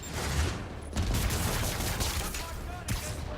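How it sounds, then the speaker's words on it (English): Rocket launcher fire indoors in the Spider-Man PS4 video game, a dense continuous barrage of blasts and explosions with booming low end, loud and sustained, with voices mixed in. "Casual rocket launcher indoors."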